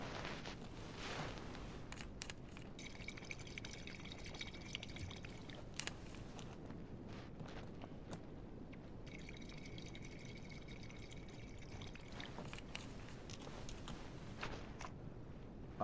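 Water pouring in the game Life is Strange, a faint steady trickling stream with a couple of brief splashy bursts, heard alone at low level.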